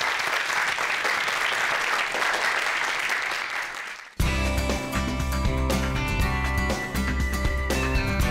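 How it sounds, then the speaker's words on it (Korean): Audience applause at a lecture event, a steady dense clapping from a crowd for about four seconds before loud music abruptly takes over. "큰 박수 부탁드릴게요"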